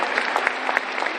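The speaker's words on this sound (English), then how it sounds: "give the gentleman a round of applause for being so honest here tonight" Applause from a live audience at a marriage game show aboard the cruise ship Oasis of the Seas, a short dense burst of clapping with a few louder individual claps, steady and moderately loud.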